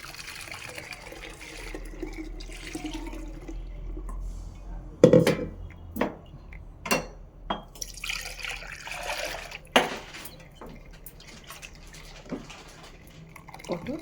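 Spiced buttermilk trickling and dripping through a strainer, with a few sharp clinks of metal utensils; no one speaks.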